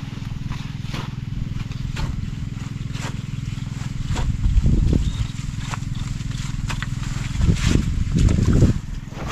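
A water pump drawing water strongly on a farm, a loud steady mechanical chugging drone with rhythmic knocking, swelling into heavier bursts a few times.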